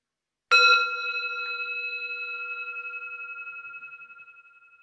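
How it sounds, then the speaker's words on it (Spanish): A meditation bell rung once to open a breathing practice; a single clear strike is followed by a long, steady ringing tone that slowly fades, heard alone in a quiet room. "Voy a tocar la campana para marcar el inicio de la práctica"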